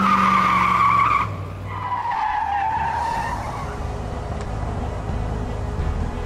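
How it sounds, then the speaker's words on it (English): A cartoon police car skids with a long tire squeal and crashes into a racing car, the screech loud and close before settling into engine and road noise. "The police car hit me."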